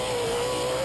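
A race truck with a Borla exhaust drones steadily and loudly in a brief, continuous burst of engine noise at a TORC off-road championship race in Crandon, Wisconsin.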